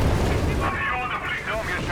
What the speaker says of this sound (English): And we got strafing runs being unleashed as well here.